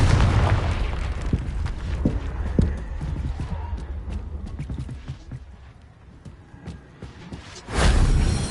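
A Confringo spell blast in Hogwarts Legacy: a loud fiery burst comes near the end, after a stretch of hoofbeats and scattered thumps and pops from the game.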